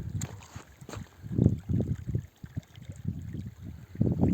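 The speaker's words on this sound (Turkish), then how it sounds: "Görüyorsunuz nasıl bak suyu nasıl geliyor. Suyun akışına bak." Water runs along an irrigation channel and spills into a farm field, gurgling and splashing close by in uneven surges that rise and fall throughout, with no voices.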